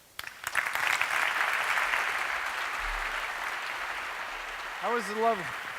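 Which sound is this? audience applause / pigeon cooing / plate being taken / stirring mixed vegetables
audience applause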